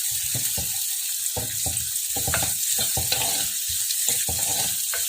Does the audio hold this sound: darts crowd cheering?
no